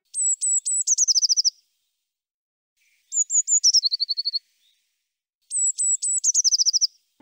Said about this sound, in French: Vous pourrez facilement détecter la mésange bleue dans votre jardin en vous basant sur son chant caractéristique